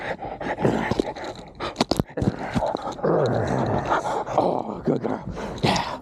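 A female dog named Madam growls and grunts during a tug game with her handler, in short bursts with scuffling, thumps and crunching, up close, with faint human voice cues mixed in.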